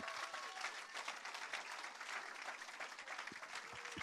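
A congregation applauds during a French-language church teaching, a steady, dense patter of many hands held at an even level for several seconds, with no voices standing out.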